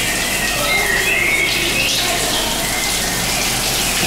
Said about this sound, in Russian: Еще и птички различные.